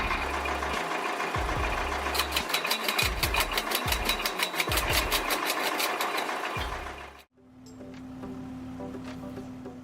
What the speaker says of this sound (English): The logs are successively placed on the conveyor belt and quickly cut and split into pieces.